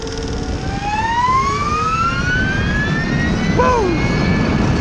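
An Energica electric motorcycle accelerates at full power on a highway, its motor whine rising steadily in pitch over heavy wind rush, loud and close throughout, with a brief voice exclamation near the end.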